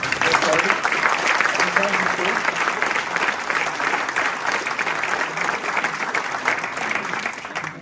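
Sustained applause from a conference audience thanking the sponsors at the Agile Tour Lausanne 2022 opening, dense and steady throughout with some murmur of voices underneath.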